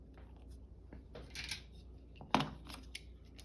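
Scissors trimming paper in a journal, quiet close snips and crisp paper rustles with a sharp click, faint and alone.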